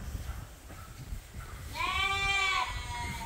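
Sheep on a farm let out a clear bleat, and several overlapping calls swell up midway and then fade, sounding fairly close over a low rumble of background noise.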